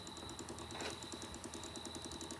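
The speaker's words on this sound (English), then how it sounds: "There's thing that sounds like a engine." A small engine idles nearby with a steady, low rhythmic chugging and a constant high whine, running continuously at moderate level without talk.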